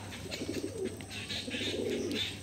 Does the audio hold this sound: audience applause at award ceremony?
no